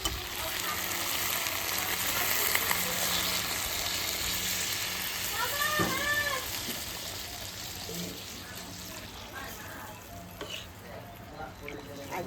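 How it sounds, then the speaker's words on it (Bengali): Chicken curry sizzles loudly in a kadai as water goes into the hot pan, a steady broad frying hiss throughout with a brief voice partway through. "চিকেন কষানো হয়ে গেছে এবার আমি জল দিয়ে দেবো"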